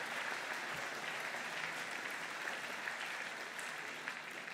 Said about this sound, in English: thank again Liz with a round of applause